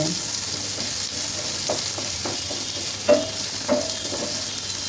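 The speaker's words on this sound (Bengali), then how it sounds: "এখানে আমি কাটা পেঁয়াজ দিয়ে দিলাম এখন এগুলো তেলের মধ্যে ভেজে নিব" Sliced onion rings fry in oil in a pan with a constant, close, hissing sizzle. A few light knocks of a stirring spoon land near the middle and later, with no talk.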